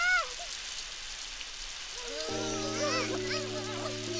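Steady cartoon rain falls as a constant soft hiss throughout, and a voice starts speaking over it partway through.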